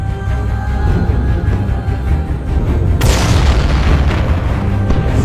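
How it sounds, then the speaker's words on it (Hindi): Gunfire and explosions from Indian forces in a war docudrama, heard as a heavy low rumble that breaks into a loud, sharp blast halfway through and keeps roaring, with no voices. "भागो! इंडिया ने फायर खोल दिए।"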